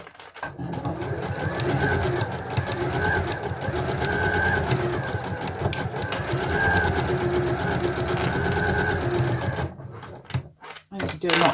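Domestic sewing machine stitching a fold-up tote made from two fat quarters, a steady mechanical whirr running throughout with a voice talking over it, stopping briefly near the end.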